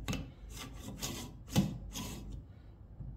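Coffee grounds being stirred and broken up in a filtration espresso basket holding about 20 grams, a soft, close scraping and rubbing in short repeated strokes with no voices.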